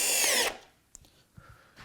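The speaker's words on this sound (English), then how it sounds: "we'll just be shooting some screws up from the bottom" A power drill driving screws up into the underside of a sliding router table whirs loudly in one short burst, then stops, leaving a few faint clicks and taps close by.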